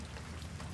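Steady rain falls, a dense, even hiss of drops throughout the brief moment, fairly quiet and with no voices.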